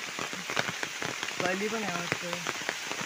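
Steady rain falling outdoors, a continuous hiss with scattered drop hits, while a voice talks over it for much of the stretch.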